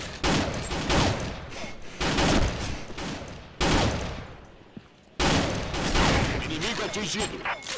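Pistol gunfire in the online shooter Combat Arms, a pistol-only elimination match on the Kill Creek map: bursts of rapid shots in dense clusters with short gaps between, loud and close, while players talk over parts of it.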